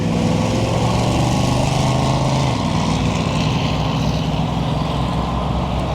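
A 1966 Ford Mustang convertible driving down the road, its engine a loud, steady, close rumble with a low drone that shifts slightly in pitch partway through, over constant road noise and no talk.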